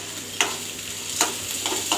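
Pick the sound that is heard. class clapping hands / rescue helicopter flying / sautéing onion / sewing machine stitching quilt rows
sautéing onion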